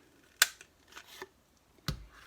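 A paper corner rounder punch cuts a corner with a sharp, crisp click, followed by some faint handling rustles and a second dull thunk as the tool is set down or released.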